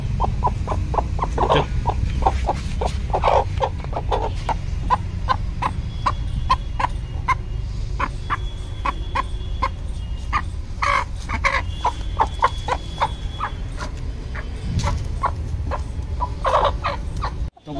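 Aseel chickens cluck repeatedly in their coop, sharp calls scattered over about eighteen seconds above a steady low rumble, with no talking.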